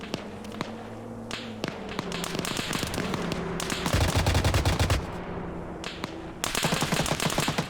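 Machine gun fire rattles in the Vietnam War shooter Rising Storm 2: Vietnam, with repeated rapid bursts from several guns, some close and loud and others farther off, over a din of battle.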